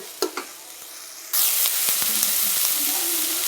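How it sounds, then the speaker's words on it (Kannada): Two green chillies drop into hot oil in a pan and burst into a loud, steady sizzle after a couple of faint knocks, the frying hiss holding close and continuous with light stirring clicks. "ಇದನ್ನು ಒಂದು 2 ಮಿನಿಟ್ಸ್ ಫ್ರೈ ಮಾಡೋಣ"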